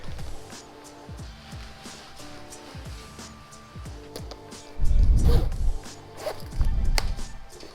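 A zipper runs up a REAX Folsom leather motorcycle jacket in a series of quick, rasping strokes close by, followed by two louder, fuller rustling bursts of leather and hardware.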